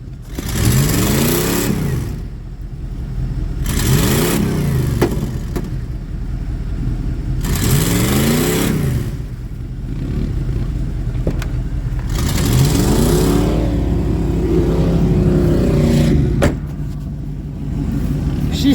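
Mud truck with a snorkel setup revving hard while a tire spins on its rim, repeated loud surging engine bursts with whining rises and falls, separated by brief lulls, close to the microphone.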